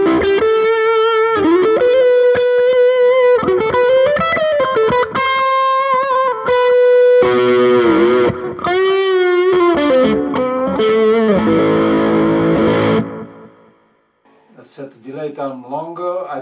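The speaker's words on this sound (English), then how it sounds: "I'm putting on my Maxon SD9 now" Electric guitar driven through a Maxon SD9 distortion pedal, loud saturated sustained notes and bends with a thick gritty tone and some echo, ending in a brief pause and quieter picking.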